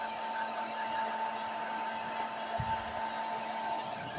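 A hair blower runs steadily while drying a wet dog, a constant quiet whirring hum with a faint tonal whine and no voices.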